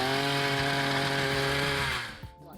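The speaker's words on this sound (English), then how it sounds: "The first step of planting consists of drilling, so making holes in the ground to accommodate the plants." A loud, steady motorized engine whine with a strong harmonic drone, like a power auger drilling planting holes in the ground at a New Zealand tree-planting site, cutting off abruptly near the end.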